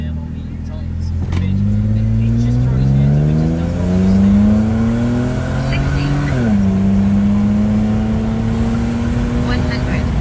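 A Ford BA Falcon sedan with an upgraded intake launches hard from a standstill to 100 km/h, the engine note climbing steadily through the gears with a brief dip at each shift, loud and close, under a voice.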